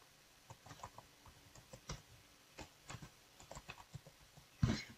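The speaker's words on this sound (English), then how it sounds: "I'm going to type out my email." Soft, irregular keystrokes tap on a computer keyboard as an email address is typed, quiet and close, with scattered clicks, a slightly louder burst near the end and no talking.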